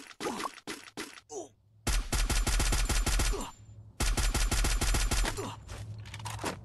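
Rapid bursts of Free Fire gunfire, loud and close, with short pauses between long automatic volleys.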